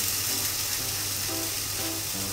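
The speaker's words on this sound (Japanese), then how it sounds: "先ほどのハンバーグたちの真ん中をね、少しこう押さえてあげて、膨らんじゃうんでね、押さえてあげて焼いていきます。" Hamburg steak patties frying in a warm pan produce a soft, steady sizzle and hiss, quiet and continuous, with a faint low hum underneath.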